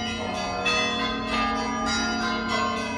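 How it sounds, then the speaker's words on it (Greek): Church bells of Saint Demetrius in Thessaloniki ring for the Salutations service to the Virgin, loud sustained peals with rhythmic strikes every half second or so, resonant overtones filling the air. "Σε αυτή τη στιγμή χτυπούν οι καμπάνες για τους δεύτερους χαιρετισμούς της Θεοτόκου."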